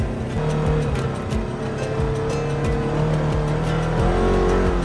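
A side-by-side off-road UTV accelerates hard with a loud, steady engine roar and rising revs, close up and continuous throughout.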